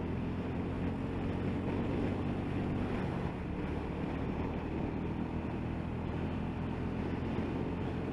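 A Royal Enfield Classic 350 motorcycle climbs a hill into a very strong headwind, its steady engine drone buried under a constant roar of wind buffeting the microphone, with no talking.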